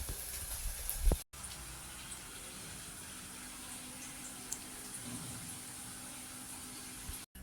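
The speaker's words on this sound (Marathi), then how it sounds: "तर गाईज बघू शकता, चिप्स आपण टाकलेले तेलामध्ये." Banana chips fry in hot oil with a steady, soft bubbling hiss that runs unbroken at low level, after a brief knock near the start.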